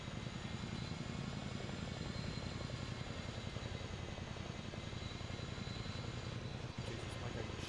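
A Chinook helicopter in a video game drones with a continuous, loud rotor and engine roar that stays steady and alone throughout.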